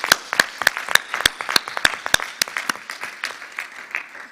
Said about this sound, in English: Round of applause for Edmund, please.